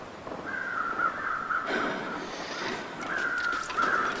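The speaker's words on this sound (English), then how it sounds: "Always follow the sound of crows" Repeated crow caws in a video game, harsh and fairly close, sounding in a couple of bursts over a steady outdoor background.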